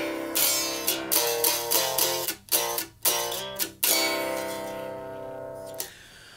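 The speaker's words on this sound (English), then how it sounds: "So that's the sound of the guitar unplugged in drop C," Unplugged electric guitar tuned to drop C, played as a run of close, quiet, strummed chords with short choked gaps, then a final chord left ringing and fading.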